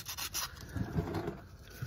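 Short strokes of sanding metal on a 2006 Ford Focus ZX4 near the transmission, a dry rubbing scrape repeating in a quick uneven rhythm, close by with no talking.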